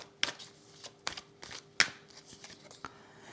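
Tarot cards are laid out and covered on a table in a few crisp, close slaps and slides, scattered irregularly over a quiet background with a faint steady hum.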